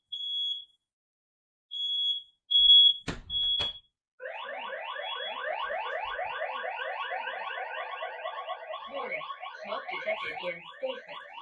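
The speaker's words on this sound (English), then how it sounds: "here's my smoke alarm" An X-Sense smoke alarm under test emits several short high beeps with gaps, then switches to a continuous rapid warbling alarm pattern that keeps sounding, loud and close.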